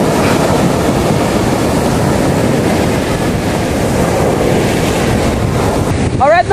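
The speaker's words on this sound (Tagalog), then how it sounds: "Lakas ng hangin." Strong wind buffets the microphone during a boat ride at sea in a bay, a loud continuous roar mixed with engine and water rush, ending with a brief chirping sound.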